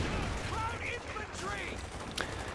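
Machine gun fire and scattered shots crackle in a Company of Heroes 2 match, Wehrmacht against USF, low in the mix beneath a commentator's continuous voice.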